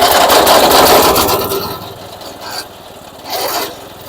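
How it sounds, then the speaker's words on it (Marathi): A chaff cutter powered by a Kisan Kranti engine starts up close by with a loud, rough rasping churn that gradually fades, then surges briefly again toward the end. "इंजिन वरची लगेच चालू करून दाखवतो मी"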